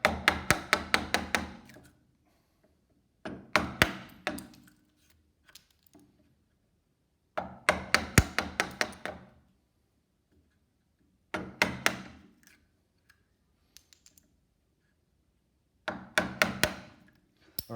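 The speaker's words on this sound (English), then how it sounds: "so from here I put the chisel on the line and take it a little bit slower" A chisel cuts wood while a pencil gauge is being made, heard as clusters of sharp, rapid taps in five evenly spaced bursts separated by silence, close and moderately loud.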